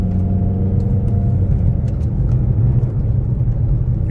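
A Ford Mustang GT350's engine rumbles deep and steady from inside the car during downshifting, a loud, continuous low drone with slight fluctuations and no speech.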